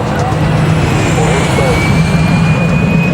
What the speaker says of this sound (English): Next up on the tarmac is a modified DHC-5 Buffalo utility plane.